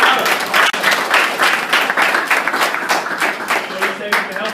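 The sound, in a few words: audience applause and clapping at a school presentation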